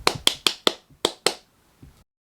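A teacher claps out a rhythmic attention pattern in a classroom: four quick sharp claps, a brief pause, then two more, with a faint soft tap after, crisp and close with no talking.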